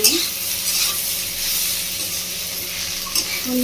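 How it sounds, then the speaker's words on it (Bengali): Spice paste with chilli and coriander powder frying for a small-fish curry with potato and aubergine, a loud continuous sizzle with occasional stirring scrapes close by, no talking. "মশলাটা দিয়ে আরো ভালো করে কষিয়ে নেব।"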